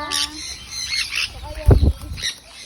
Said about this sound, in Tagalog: May lovebirds dun sa gilid.